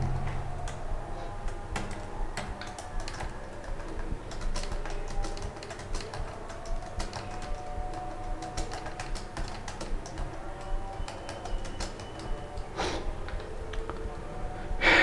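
Continuous typing on a computer keyboard, with rapid close clicks, uneven rhythm and brief pauses, runs over a low background hum for about fifteen seconds.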